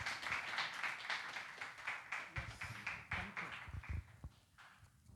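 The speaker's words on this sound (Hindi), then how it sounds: "आपकी ज़ोरदार तालियों के साथ" An audience claps to welcome the chairman at a seminar, a faint, uneven patter of hands with scattered louder claps before the applause thins out.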